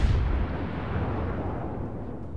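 Heavy naval gunfire from the Scharnhorst battleship in World of Warships, a single deep booming salvo that rolls into a long, dense rumble and slowly fades, loud and close with no talk over it.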